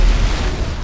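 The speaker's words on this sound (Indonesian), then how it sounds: "Meledak tanknya" A tank explodes in the video game GTA 5, a loud, close burst with a heavy low rumble that fills the whole short moment without any speech.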